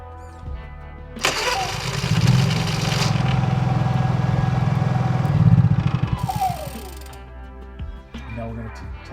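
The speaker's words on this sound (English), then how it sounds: "Okay, momentary choke and crank." Honda EU3000IS generator cranked by wireless remote: a short starter burst, then the engine catches and runs loud and steady for several seconds, revving briefly before settling.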